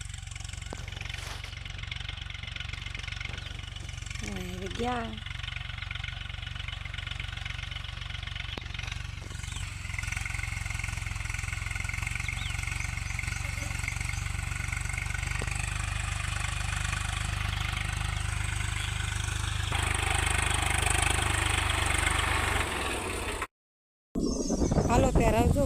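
A tractor engine runs with a steady low rumble in the background on a farm field at peanut sowing time, while people talk over it before it briefly cuts out near the end.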